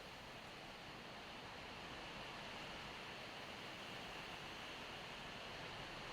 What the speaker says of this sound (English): massive raindrops.